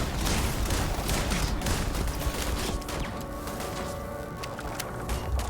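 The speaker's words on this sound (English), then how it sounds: "They're just shooting at where I was." Enemy gunfire rattles in rapid, dense bursts during a Starfield firefight, steady and moderately loud with no talking.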